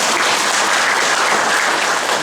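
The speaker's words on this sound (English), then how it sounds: "A big round of applause for my..." A meditation talk audience bursts into loud, continuous applause that holds at full level throughout the short stretch, with no speech over it.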